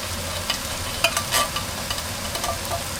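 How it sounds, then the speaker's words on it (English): Diced tomatoes are stirred into a hot pan with garlic and Worcestershire sauce, giving a constant sizzle with wet scraping strokes and a few clacks of the spoon against the pan, close up. "get our tomatoes mixed in"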